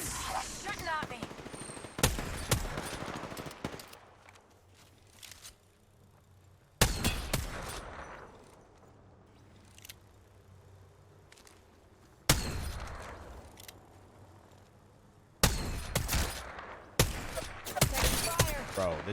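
Apex Legends firefight: bursts of rapid automatic gunfire come in several loud clusters separated by quieter stretches, with someone talking between and over the shots.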